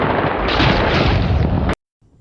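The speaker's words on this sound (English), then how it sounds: "Send in the airstrike." An airstrike explosion sound effect, a loud sustained blast-like roar lasting under two seconds that cuts off abruptly into near silence.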